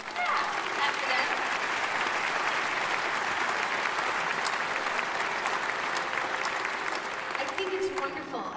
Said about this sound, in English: I think it's wonderful how we're already clapping for them.